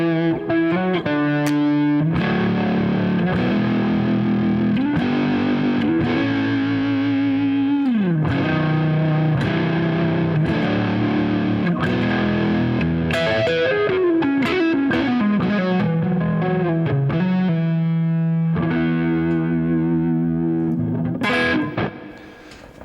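An electric guitar played through a reverb effect rings out with sustained, distorted chords and melodic phrases. The notes blend into a washy tail and play continuously at close range before fading briefly at the end.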